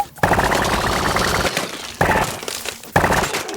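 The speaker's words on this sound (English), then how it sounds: "Bullet impacts are a huge part of the weapons." Rapid, crackly volleys from a corn-kernel weapon in Plants vs Zombies Garden Warfare 2, with sharp impact bursts on surfaces, loud and close, in three dense bursts separated by brief pauses.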